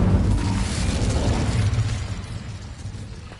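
An Incendio fire spell cast in Hogwarts Legacy, a loud whooshing burst of flame with a low roaring rumble that slowly fades out, with no talking over it.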